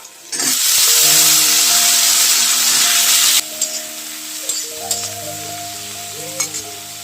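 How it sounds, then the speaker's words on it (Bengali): Cut eggplant hits hot oil in a pan for a Bengali fish curry, a loud burst of sizzling frying that then settles into softer crackles with stirring scrapes and clinks. "এখন বেগুনটা যে কেটে রেখেছি সেই বেগুনটা দিয়ে দেবো"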